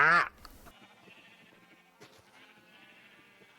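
A loud sheep bleat from a Minecraft video game opens the clip, brief and close, followed by quieter game ambience and faint background tones.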